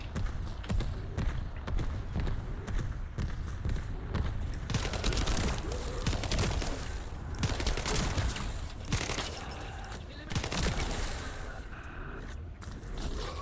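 Rapid gunfire from The First Descendant shooter game, dense bursts of shots and impacts repeating almost nonstop, loud and close, with brief lulls between volleys.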